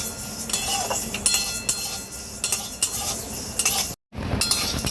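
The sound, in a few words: mung dal being fried and stirred in a pan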